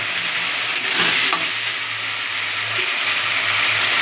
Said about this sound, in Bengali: টমেটোটা দিয়ে দেবো যাতে এটা কষানো হয়ে যায়।